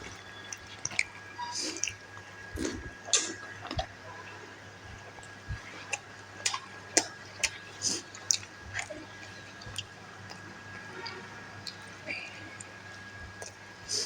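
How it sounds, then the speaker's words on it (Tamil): Someone eats poori soaked in mutton curry, close, soft wet chewing and squishing with small irregular clicks and bites over a faint background hum. "நல்ல குழம்பு ஊற வச்சு நாங்கள் எடுத்து சாப்பிடுவோம்."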